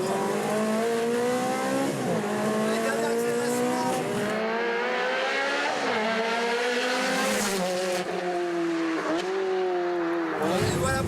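A Ferrari 360 Challenge Stradale with an F1 gearbox accelerates hard on a race track, its engine rising through the revs in repeated climbs and gear shifts with a brief tire squeal, loud and close.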